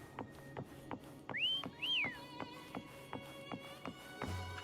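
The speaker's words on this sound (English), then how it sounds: "Try whistling." A short two-note whistle, a rising call and then a falling one, rings out in the Wuthering Waves game world over soft, regular taps and a quiet background.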